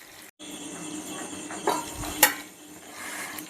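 Masala-coated chicken pieces fry in a pan with a steady, close sizzle and hiss, broken by a brief dropout near the start and a couple of sharp metallic clinks from a utensil against the pan.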